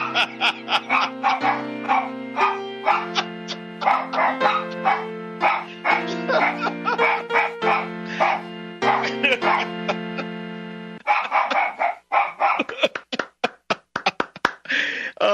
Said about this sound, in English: How do you take a dog's bark and make it into a tune?